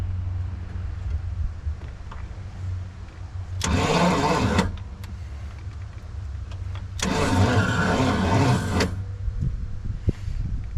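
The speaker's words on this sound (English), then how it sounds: "why the slow crank?" The 428 engine of a 1969 Pontiac Bonneville station wagon, parked for 45 years, cranks slowly in two separate bursts of labored starter churning, about a second and then two seconds long, with quiet gaps and no catch.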